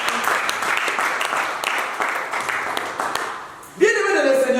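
Congregation in a church service applauding steadily under a continuous wash of claps and cheers, then a loud voice breaks in over the crowd near the end.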